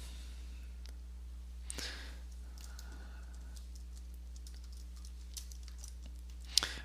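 A few sparse, quiet keystrokes on a computer keyboard as an author's name is entered, faint clicks over a low steady hum.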